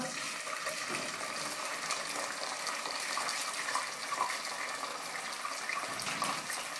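Boiled fava beans are drained, and water pours steadily into a strainer in a sink with a continuous close gushing rush and no talk.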